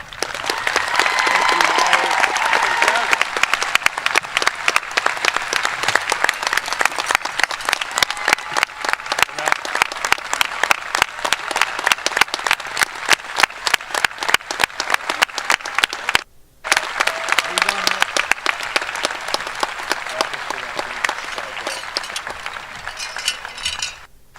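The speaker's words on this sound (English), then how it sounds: "let's conclude this ceremony with a round of applause for all of our graduates" Sustained applause from a large crowd at a high school graduation ceremony, steady clapping that briefly drops out near the end before resuming.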